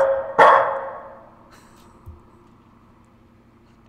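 A dog in the horror game Lost in Vivo gives a single loud, close bark with a fading echo, followed by faint thuds and a quiet stretch.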